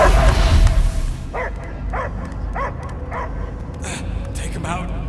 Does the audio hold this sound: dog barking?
yes